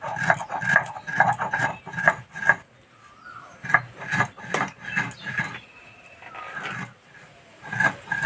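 Sugar and three cardamom pods being ground together by hand, a close, repeated scraping and rasping in short rhythmic bursts with brief pauses, no talk.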